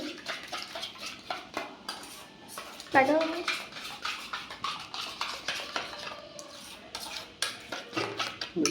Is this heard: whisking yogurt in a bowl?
yes